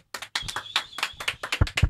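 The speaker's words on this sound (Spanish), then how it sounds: "para quien pide un fuerte aplauso" Audience applause for an urban music artist from Los Alcarrizos at an interview, a burst of close, dense clapping that starts after a brief pause and keeps going strongly.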